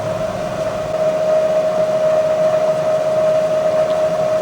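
A Bridgeport milling machine spindle turns slowly in back gear below 100 RPM, giving a steady, continuous mechanical whine with a constant tone and an even hum underneath, close and alone.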